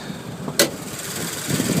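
A 2013 Subaru BRZ's 2-liter dual overhead cam four-cylinder boxer engine (200 horsepower) runs at a steady, even rumble with a sharp click partway through, swelling slightly at the end.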